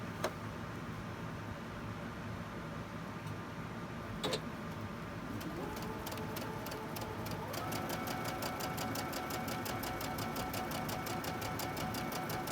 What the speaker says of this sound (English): We're not sewing down the middle line, we're sewing down the side lines.